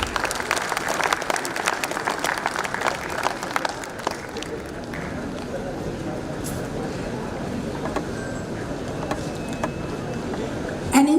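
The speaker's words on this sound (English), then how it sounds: "Let's welcome him with a huge round of applause." An audience at an academic management conference claps steadily, strongest at first and thinning out over several seconds, with a faint murmur of voices underneath.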